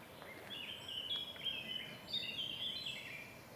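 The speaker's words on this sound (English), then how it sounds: "Nice black cap in the background." A blackcap sings in the background on a late-May countryside walk near Eridge, its warbling phrases faint and distant, repeating across a few seconds over soft ambient noise.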